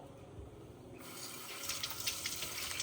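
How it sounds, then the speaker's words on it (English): Tap water runs into a kitchen sink to rinse parts of a Breville Barista Pro coffee machine, a steady rushing flow that turns brighter and splashier as it strikes the parts, heard close with no talk. "bring it over to the sink, just give it a rinse, cleans all the gunk out"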